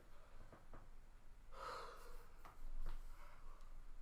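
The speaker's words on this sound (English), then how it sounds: "yawning and stretching." Breathy yawns during a Linklater voice warmup with stretching, a long open exhalation swelling in the middle and followed by softer sighing breaths, close and quiet with no talk.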